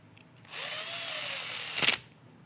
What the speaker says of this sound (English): we're going to reinstall our Phillips screw, which is the only one that's kind of an oddball there. We'll go ahead and tighten that up now.